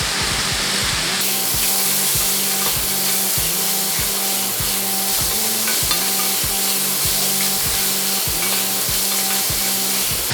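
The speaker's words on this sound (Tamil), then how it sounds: "இது எல்லாத்தையும் சேர்த்து கொஞ்சம் நல்லா வதக்கிக்கலாம்." Chopped potatoes and vegetables sizzle steadily in a hot pan, with a rhythmic scraping and stirring repeating about once a second, close and loud with no talk.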